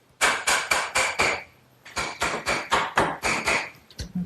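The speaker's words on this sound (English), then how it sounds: "I just slip it through the other eye bolt and give it a little tap to drive it home" A hammer taps conduit through an eye bolt on a wooden garden swing, two quick runs of sharp, evenly spaced strikes with a short pause between, loud and close.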